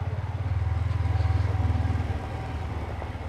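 A motorcycle rides slowly over icy, packed snow on a mountain road near Gangotri in winter, its engine giving a close, steady low thumping pulse that fades slightly toward the end, with no talking.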